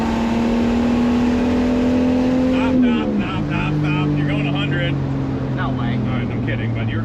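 A cheap truck fitted with a $125 turbo accelerates hard from a standstill toward 60 mph, its engine droning loud and steady before a gear change drops the pitch, with people talking over it.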